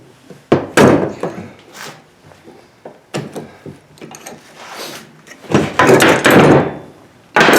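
Metal is hammered and beaten into shape during the build of a small animal hay feeder, producing several heavy, irregular close thuds and bangs separated by short pauses.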